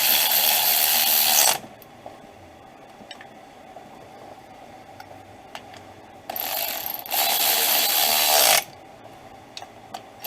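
Ratchet torquing bolts on a 2005 Honda Accord wiper motor, loud, close bursts of rapid clicking: one at the start, then two back-to-back runs later, with quiet handling noises between and no voices.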